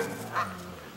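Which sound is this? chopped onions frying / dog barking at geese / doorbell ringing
dog barking at geese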